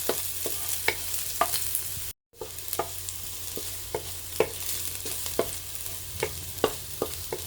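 Garlic sautéing in hot oil in a pan for a squid dish, a continuous close sizzle with regular clicking stirs, briefly cut off by a silent gap partway through.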